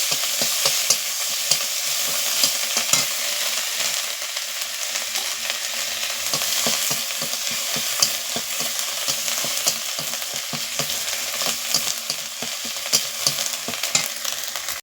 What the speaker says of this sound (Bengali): এবার এই তেলের মধ্যে পেঁয়াজ বাটাটা দিয়ে দিচ্ছি